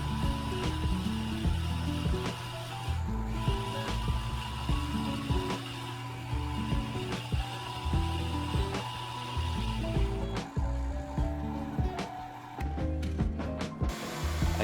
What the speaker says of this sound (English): With the holes marked, I now drilled the holes.